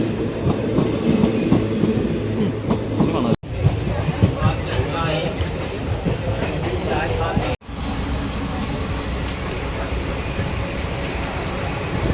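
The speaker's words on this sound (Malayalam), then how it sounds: "ട്രെയിൻ വന്നു" A train rumbles past with steady rolling noise and clickety-clack of wheels, loud and close throughout, with faint crowd chatter mixed in.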